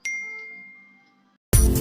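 A single bright bell ding rings out and decays over about a second, followed by silence and then an abrupt burst of loud music.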